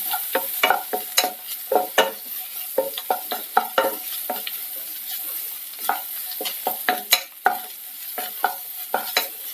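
Turmeric powder sizzles in hot oil at the start of an ivy gourd curry, while a spoon scrapes and taps the pan in quick, uneven bursts close by, with no voices.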